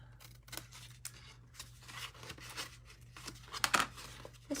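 Scissors snip through a sheet of patterned paper along score marks for a mini Easter basket, a series of soft, close cuts and crinkles over a low steady hum.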